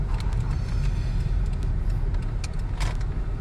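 A car goes by on the road outside, a steady broadband road rumble with tyre hiss swelling faintly near the end, fairly close and continuous, with no one speaking over it.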